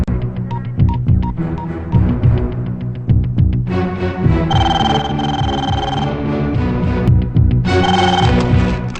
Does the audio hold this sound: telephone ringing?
yes